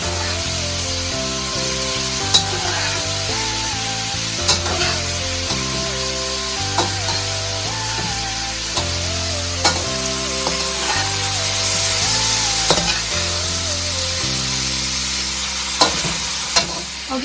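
Pancit canton noodles sizzle steadily in a hot pan while being stirred slowly, with occasional sharp clicks of a utensil against the pan over a continuous frying hiss and background music.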